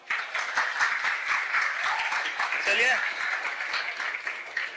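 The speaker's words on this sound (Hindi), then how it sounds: "अरे तालियां तो बनती है" An audience claps through a gathering, steady applause under a man's spoken words that continue over it.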